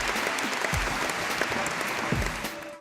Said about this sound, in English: That's unanimously carried, and it should be with applause